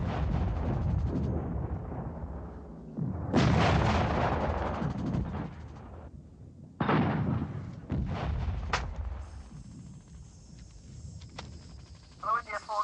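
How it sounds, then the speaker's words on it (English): Demolition charges blowing a bridge during a vintage Royal Engineers exercise, heard as several heavy booming blasts with rumbling decay, with radio-style voices between them. "Intend to blow the bridge now."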